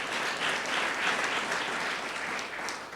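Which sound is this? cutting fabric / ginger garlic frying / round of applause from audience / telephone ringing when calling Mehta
round of applause from audience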